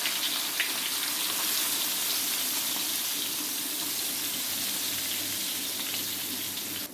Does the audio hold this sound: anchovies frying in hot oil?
yes